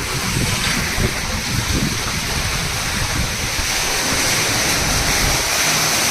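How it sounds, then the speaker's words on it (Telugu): Rainwater pours at high volume into a storage sump, a loud, steady rushing roar of falling water that fills the whole stretch without a break and with no voices. "ఈ సంప్లో ఫుల్ ఫ్లెడ్జ్ వాటర్ వస్తూ ఉంది. చూడండి, ఇంత ఇంత ఇంత వాల్యూమ్ వాటర్ వస్తుంది."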